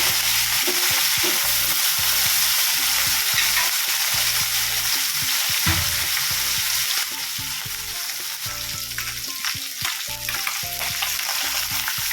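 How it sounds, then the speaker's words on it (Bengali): Small puti fish fry in oil in a wok, giving a loud, steady sizzle throughout with intermittent clinks and scraping of stirring; no one speaks. "এবার কড়াইয়ে তেল দিয়ে মাছগুলোকে ভেজে নেবো"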